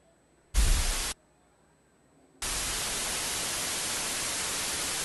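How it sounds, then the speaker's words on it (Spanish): Broadband white noise spanning the full frequency range plays in two solid bursts, a short loud one near the start and then a longer steady stretch after a pause, with no talking. "Sonido rosa, sonido blanco o ruido blanco le decimos"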